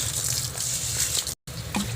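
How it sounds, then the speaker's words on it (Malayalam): Water runs from a garden hose in an evening home garden, a steady rushing spray that cuts out for a split second and then resumes, close and continuous with no talking. "ഞാൻ നേരെ ഹോസ് എടുത്തുകൊണ്ട് വന്നു ഹോസിനകത്ത് വെള്ളം ഒഴിക്കാൻ പോവാം"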